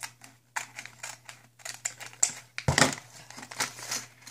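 A Lego Minifigures Series 15 blind-bag foil package is handled and cut open, giving close, sharp crinkles and small snipping clicks in quick irregular bursts, with one louder rustle near the middle, in a quiet room.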